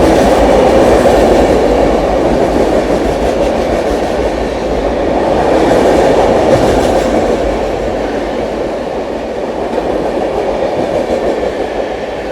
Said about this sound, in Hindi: ये थी दोस्तों बरौनी से चलकर नई दिल्ली की ओर जाने वाली क्लोन एक्सप्रेस जिसने ओवरटेक करा है